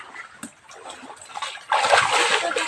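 Splashing in a shallow, knee-deep river after rain, broadband water sloshing that starts faint and scattered, then swells into a loud, continuous churning splash in the final second.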